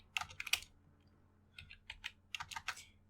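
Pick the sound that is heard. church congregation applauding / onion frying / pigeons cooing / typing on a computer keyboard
typing on a computer keyboard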